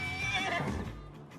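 A horse in Farming Simulator 19 neighs in a drawn-out whinny, fairly close and clear, with a faint clip-clop of hooves underneath and no talking.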